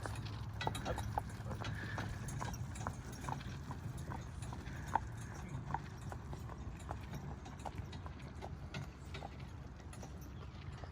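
Horse hooves clip-clop steadily in a quick, even rhythm as logging horses pull a carriage while it turns around, with people talking over the hoofbeats throughout.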